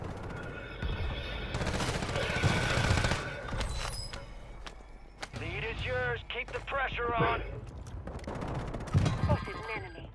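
Gunfire from a Call of Duty Warzone resurgence trios match on Fortunes Keep, sharp shots and bursts popping repeatedly through the clip, mixed with game effects while players talk over it.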